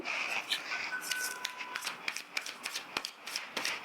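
Tarot cards are shuffled by hand close up in quick riffling bursts with sharp flicks, alone without speech.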